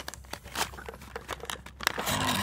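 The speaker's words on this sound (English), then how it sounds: "I just cut the bottom out." Knife cutting open the bottom of Greenlight die-cast car blister packaging: close, irregular crinkling plastic and cardboard scratches and snips, ending with a louder tearing rustle.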